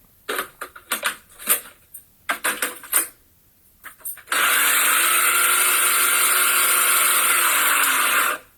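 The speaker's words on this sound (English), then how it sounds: "I'm just going to give this a quick mix on my Ninja, just a quick sort of 3 seconds" A Ninja blender gives a quick mix for a bread recipe: a few clattering knocks and clicks, then a loud, steady whirring roar for about four seconds that cuts off abruptly.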